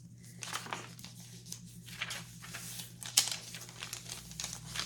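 Crinkly vintage music paper is handled and shuffled, giving a series of irregular crackling rustles and a sharper crisp crackle near the end, close and fairly quiet.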